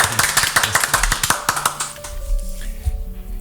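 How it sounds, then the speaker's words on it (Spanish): A small group claps for a guest on a talk show, quick close hand claps in a brief burst that fades after about two seconds into a quiet room tone with a faint tone underneath. "¿Y un aplauso?"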